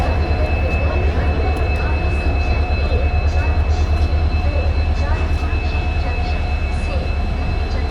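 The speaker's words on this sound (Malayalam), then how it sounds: "ഇതായിരുന്നു നമ്മളിവിടെ കൊണ്ടുവന്ന ട്രെയിൻ." The 14088 Runicha Express from Jaisalmer stands at platform 16 of Delhi Junction station, giving a loud, steady low rumble with a constant hum throughout.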